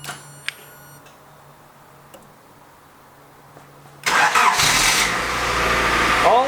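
A car with a 1980s JDM remote starter sits quiet with a few faint clicks, then the engine cranks and catches, settling into a loud, close idle.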